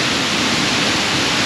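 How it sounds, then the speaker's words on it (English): Roaring waterfall on a Yorkshire Dales trail, a dense, steady broadband rush heard close and loud for the whole stretch with no break. "So far, we've got some pretty impressive waterfalls on this trail."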